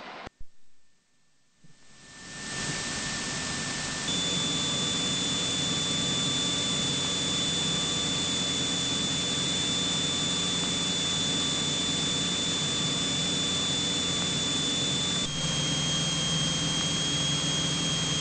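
Mooney light aircraft engine spooling up for takeoff, a steady loud broadband roar with a whining tone that rises after a short quiet start and holds through to the end.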